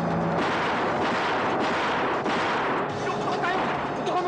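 Dense gunfire in a Filipino action film shootout, a steady loud barrage of shots with shouting voices mixed in throughout.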